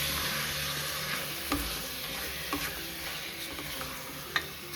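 Mutton kharda with turmeric and salt stirred in a hot pan, a low steady sizzle with a few distinct spatula taps and scrapes.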